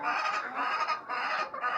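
A flock of chickens clucks and squawks continuously on a small poultry farm at feeding time, a dense, busy chorus close by, with no talking.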